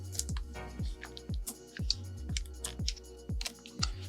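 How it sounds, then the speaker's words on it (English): Small plastic clicks and taps repeat about twice a second as the keyboard cable connector is worked loose inside a 15-inch 2015 MacBook Pro A1398 during top case replacement, close and crisp, no talking. "We're going to go ahead and disconnect our keyboard cable."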